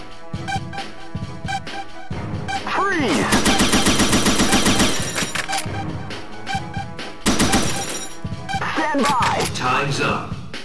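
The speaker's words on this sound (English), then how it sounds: "machine gun" Rapid machine gun bursts from the 2004 Sammy arcade shooter Ranger Mission, fired during a helicopter chase after an escaping car, loud and dense amid music and game effects, with voices speaking between bursts.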